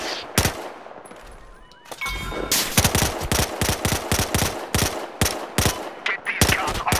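Automatic gunfire in the shooter Battlefield: Hardline, loud rapid shots fired in quick uneven bursts after a brief quieter lead-in, close and punchy.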